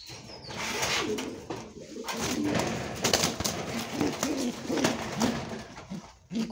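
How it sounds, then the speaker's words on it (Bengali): Racer pigeons cooing: soft, repeated low throaty coos in an irregular rhythm, close by, with light rustling and flapping around them. "আর এখানে এই যে একটা কবুতর,"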